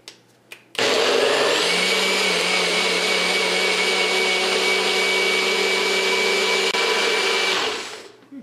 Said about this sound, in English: I've let it blend for 2 or 3 minutes